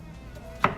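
A single sharp knife chop through vegetables on a cutting board, one close quick knock against a quiet background.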